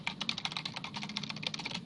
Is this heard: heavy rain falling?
no